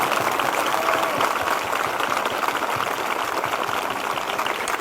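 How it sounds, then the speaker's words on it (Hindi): A congregation at a church prayer service claps, a dense, steady patter of many hands filling the space for the whole stretch with no voices on top. "जिनके हो चुके हैं वो जोरदार ताली बजाकर धन्यवाद दें।"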